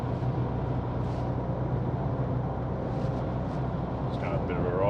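An Isuzu 4JJ1 vehicle with a six-speed automatic transmission cruising in fifth gear lock just under 100, a steady broadband road and engine drone. Someone talks over the drone in the cabin.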